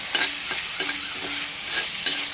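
Shallots, crushed ginger and garlic, green chillies and curry leaves sauté in hot oil with a constant sizzle, broken by several evenly spaced scrapes of a stirring spoon, close by and without speech.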